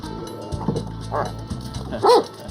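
A dog gives a few short barks and yips over a low engine hum, with a voice speaking briefly in between.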